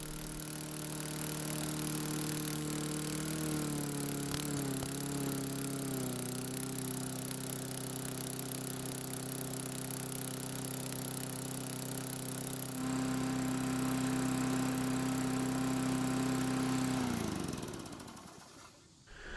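A Murray lawn mower engine running fast with a steady buzzing drone, its pitch shifting and dropping as the governor spring tab is bent, then the engine winds down and cuts out at the end.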